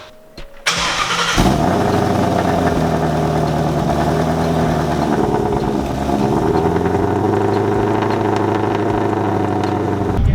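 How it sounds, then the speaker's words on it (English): Carbon-bodied Mustang with an X-Force exhaust cold-starting: a quick crank, then the engine catches into a loud, steady, rumbling high idle that carries on close by. "we've got an X-Force exhaust. Sounds great."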